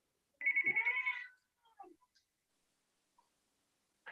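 A telephone gives one short warbling electronic ring near the start, followed by a few faint clicks and a brief tone at the end, in an otherwise quiet room.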